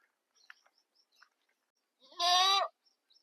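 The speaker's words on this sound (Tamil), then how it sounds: "இந்த சின்ன ஆட்டுக்குட்டி வேற என்ன முட்டுறதுக்காக எவ்வளவு ட்ரை பண்ணி பாருங்களா" A small young goat kid gives one short, loud, wavering bleat up close, with faint scattered chirps and small sounds in the quiet before it.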